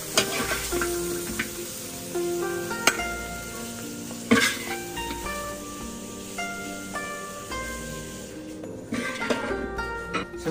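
Stir-frying in oil in a wok in a rural kitchen, a soft sizzle with scattered metallic clinks and scraping taps of the spatula, fairly quiet and close, with no talk.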